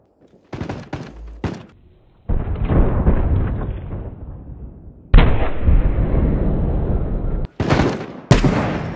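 An online shooter game played on laggy servers produces heavy, echoing gunshots and booming blasts, several sharp cracks at the start and two long rumbling bursts, loud and close with no talk.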